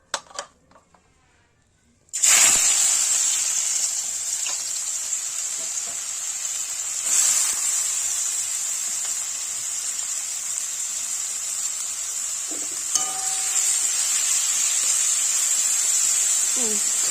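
Shredded cabbage, capsicum, grated carrot and chopped beans for momo filling hit hot oil with a sudden loud hiss, then a steady bright sizzle with faint stirring knocks, after a quiet start.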